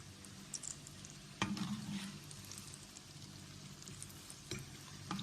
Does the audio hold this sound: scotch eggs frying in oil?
yes